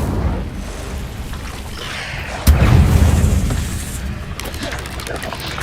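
An Incendio fire spell is cast in Hogwarts Legacy, a sudden booming burst at mid-clip with a rumbling fiery tail over busy game ambience, and faint voices may sit in the background.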